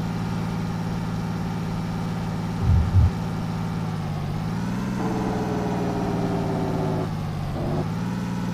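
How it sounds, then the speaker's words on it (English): In a truck driving simulator game, a heavy truck rumbles along steadily with a droning engine, two brief low thumps early on, then pitch shifts as the engine brake engages and releases near the end. "That Jake break"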